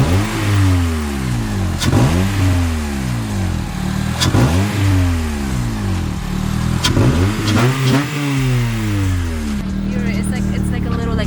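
A car engine revs hard several times in a row, the pitch climbing and falling with each burst, loud and close, with a faint voice partly underneath.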